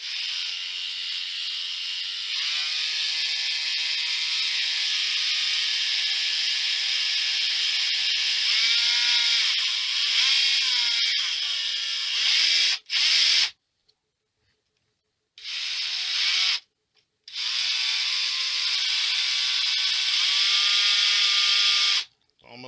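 A sharp drill bit bores slowly into metal without a center punch, a steady high whirring drone that stops and restarts in short bursts near the end, close up with no talking.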